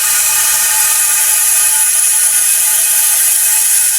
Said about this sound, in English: release the vacuum out of there.